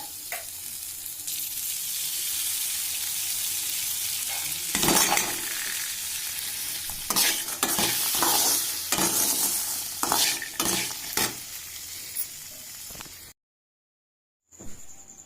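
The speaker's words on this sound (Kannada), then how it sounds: "ಹಸಿ ಕಡಲೆ ಕಾಯಿ ಮೊಳಕೆ ಕಾಳನ್ನ ಫ್ರೈ ಮಾಡಿರೋದು ಆಗಿದೆ" Sprouted raw peanuts frying in a pan, a bright continuous sizzle with bursts of stirring and scraping, close by, before a brief cut to silence near the end.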